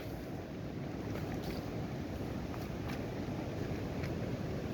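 Joes River flows beneath the George River Bridge, also called Tenby Bridge, in St. Joseph, Barbados: a close, loud, unbroken rush of water with wind buffeting the microphone, and no voices.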